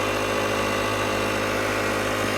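A small air pump runs steadily to inflate the back tire of a Harley-Davidson CVO motorcycle, giving a continuous close mechanical drone with a fine rapid pulsing and no pauses.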